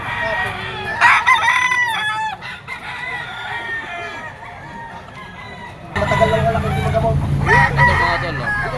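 A yellow-legged stag chicken at a busy poultry market crows repeatedly and loudly nearby. Two crow bursts stand out amid clucking and crowd noise, and people are talking in the background.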